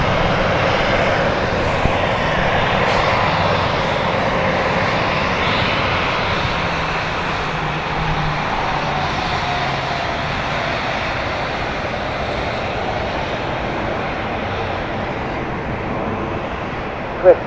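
Iberia airliner approaching or landing in a crosswind at London City Airport, a steady broadband jet engine roar holding at the same level throughout, fairly near, with no talk over it.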